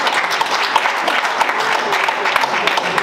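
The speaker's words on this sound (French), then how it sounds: "Est-ce qu'on peut acclamer?" Dense applause from an audience at an official UDPS committee installation, steady continuous clapping filling the room with no pauses, loud and close throughout.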